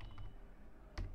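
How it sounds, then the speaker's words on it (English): A few soft, brief keystroke clicks on a computer keyboard, typed while entering spreadsheet field names in Excel, quiet and close with a near-silent gap between them. "I am typing this at present"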